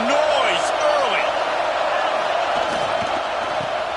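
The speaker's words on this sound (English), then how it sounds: "This crowd bringing the energy and noise early." Crowd noise in a college football stadium at an NC State versus Miami game, a steady roar of voices filling the air, with a commentator talking over it.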